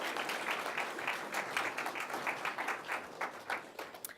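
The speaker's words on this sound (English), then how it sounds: "let's have a round of applause for all of our project book curriculum champions" Audience applause at a county 4-H awards program, a steady patter of many hands clapping that swells and thins over about four seconds, moderately loud in a hall.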